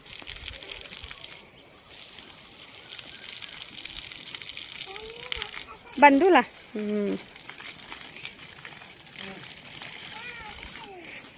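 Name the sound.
water being sprayed and splashing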